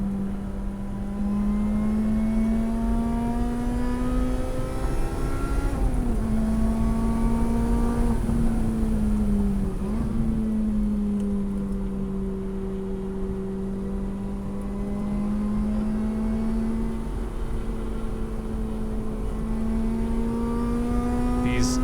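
A 2007 Lotus Exige S220 engine drones steadily throughout, its pitch rising and falling as it accelerates and eases off, loud and close, driving laps on a track.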